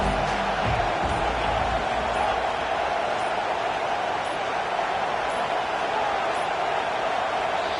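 A football stadium crowd roaring against the offense, a broad continuous wash of distant massed voices holding steady without letup.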